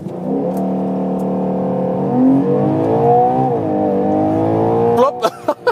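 A 2023 Ferrari Purosangue launches hard under launch control, its engine howling loud and close as it climbs through the revs with gear shifts, then cutting off into a few sharp bursts at the end.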